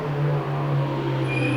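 A 600hp Mitsubishi Evo X with a big turbo approaches, a steady engine drone with a faint high whine rising near the end.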